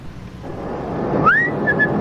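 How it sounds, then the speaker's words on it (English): A single rising whistle sweeps upward and then holds a few short steady notes, heard over a constant hum of background noise. "Why are you whistling?"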